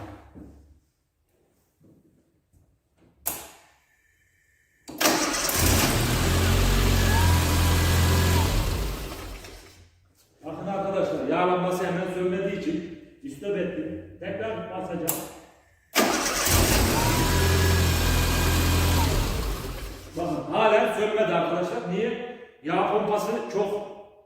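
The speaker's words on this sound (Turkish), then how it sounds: "O şekilde kısık kısık gerekirse marş yapacağız." A car engine whose oil has been drained and replaced with diesel is cranked and runs twice, each time a loud rough burst lasting several seconds, with someone talking between the runs.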